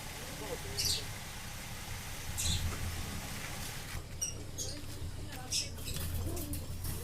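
Sakhiwala pigeons cooing nearby, several short soft calls spaced a second or two apart over low background hum, with someone talking at times.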